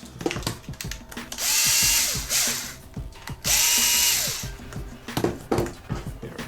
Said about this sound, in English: So now I put the two screws in.